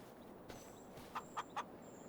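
Chickens on a farm in a farming simulation game give three short clucks in quick succession, faint and close together over a quiet, steady ambient background.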